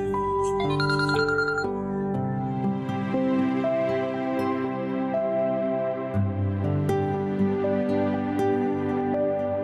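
A phone ringtone plays a repeating electronic melody of clear sustained tones, loud and continuous, in a domestic drama scene.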